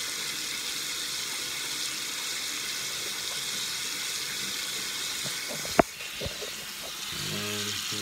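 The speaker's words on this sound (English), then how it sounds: "I'm gonna turn this water off so it's not quite so noisy." Water runs from a tap as a bottle is rinsed, a steady loud hiss throughout with a sharp knock and brief clatter of the bottle near the end.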